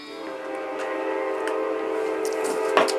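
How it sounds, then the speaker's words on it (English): A train passes nearby, its horn sounding as a sustained, slightly rising harmonic tone over rolling rail noise, with a few clacks and a brief louder knock near the end. "Pardon the train."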